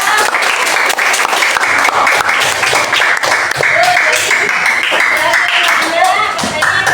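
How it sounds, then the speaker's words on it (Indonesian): Applause from a class of students fills the room steadily and loudly, a dense wash of clapping with some voices mixed in underneath. "Masya Allah, tepuk tangannya dulu ya."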